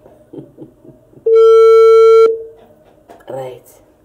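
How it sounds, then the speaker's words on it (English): A telephone ringing tone on a call sounds as one long, loud steady electronic tone of about a second, with soft talk before it and a voice speaking just after. "this one is ringing"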